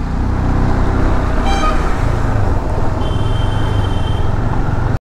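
Heavy traffic on a mountain highway near a river and landslide repair work, a loud continuous engine and road roar from close vehicles with a short horn toot early on and another sustained horn later.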